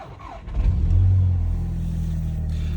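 A Volkswagen car engine cranks and fires up after a battery replacement, revving sharply once before settling into a steady, close idle.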